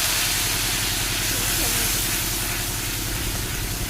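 Ground cumin paste thinned with water hits hot oil in a pan for a coriander tangra catfish curry, giving a loud, steady, continuous sizzle and hiss that holds evenly throughout.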